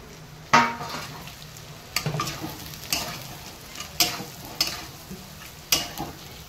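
Chicken frying in a pan with spices and coriander leaves, sizzling steadily up close while a spatula stirs and knocks against the metal in sharp, roughly once-a-second scrapes, with no voices.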